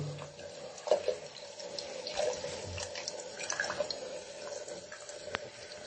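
Water running from a tap in a small sauna washroom, a steady trickling splash with a few drips and light knocks close by.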